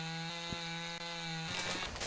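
A chainsaw cuts into a tree in the logging game Lumberjack's Dynasty, with a sustained harmonic engine whine that turns gritty and noisy as the blade bites near the end.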